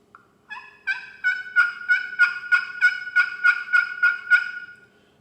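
An aluminum turkey pot call worked with an ash striker gives a series of rising, rhythmic yelps, about a dozen clear, evenly spaced notes that build in loudness and then taper off. The calls are close and sound alone, with no speech.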